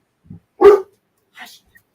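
A pet dog barks close by indoors near a door: a soft yip, then one loud sharp bark, and a fainter yelp moments later, with no talk over it.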